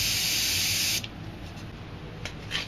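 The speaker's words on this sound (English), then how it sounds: "Spray some white" An aerosol spray paint can sprays white paint for a landscape painting, giving a loud, steady hiss that cuts off after a second, followed by brief, softer bursts.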